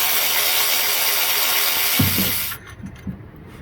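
Ratchet on a Datsun oil pan's bolts during a swap to a Mast Motorsports low-profile pan, giving a few short close clicking bursts near the end over a steady background hiss.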